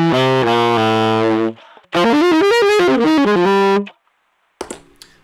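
A distorted, gritty saxophone melody played through a Keeley Stahlhammer distortion pedal plays in two loud phrases separated by a short pause, then a brief noisy burst at the end.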